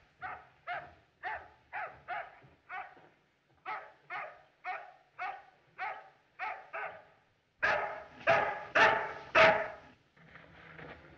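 A dog barks in a steady run of sharp single barks, pausing briefly, then gives louder, longer, strained barks before a softer whimpering finish, with no voices.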